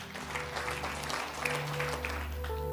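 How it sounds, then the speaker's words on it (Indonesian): Church congregation applauding during an evangelistic service in Semarang, a sustained crowd clapping over a low organ or keyboard drone. "Tepuk tangan bagi Yesus semua."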